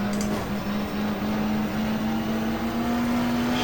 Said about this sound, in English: The power of the brand new Cosworth RS